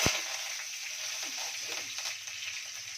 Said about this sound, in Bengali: সর্ষে সম্বার দিয়েছি, এখন কারি পাতা ছেড়ে